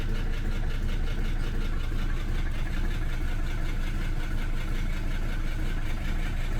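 A Mercedes 300SD diesel engine idles roughly just after starting, a loud, steady uneven clatter and rumble running throughout with no talking.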